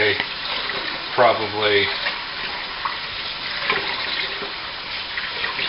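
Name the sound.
rinsing rice in water by hand to remove starch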